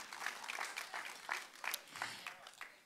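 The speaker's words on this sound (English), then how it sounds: "Yeah, you can clap for that." A church congregation claps during a sermon, a short burst of moderately loud, scattered applause heard from within the room.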